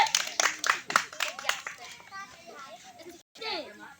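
Small children clap their hands in quick bursts of sharp claps near the start, mixed with their chatter and excited voices, then quieter talking follows.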